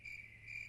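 A cricket chirps with a steady, high, thin trill. It is faint and continuous, heard alone in a quiet night setting.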